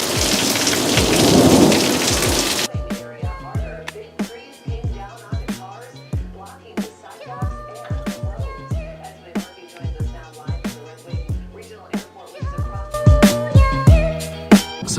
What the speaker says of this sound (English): We're in for a big storm tonight.